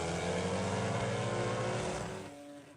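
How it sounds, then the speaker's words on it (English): An Aston Martin Vantage GT race car at the Miami Grand Prix, a steady loud engine drone holding high revs before fading slightly at the end, with no talk. "Gould is in one of the Aston Martin Vantage machines"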